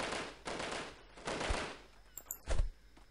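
Incoming gunfire strikes around the player in the Delta Force video game, a few fairly quiet bursts and sharp hits spread across a few seconds, with a sharper crack near the end.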